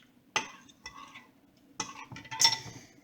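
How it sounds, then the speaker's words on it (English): Vegan mushroom soup being stirred in a pot, with a few separate scraping, clinking strokes of a utensil against the pot in two short bursts over a quiet background. "So I'm just stirring this up."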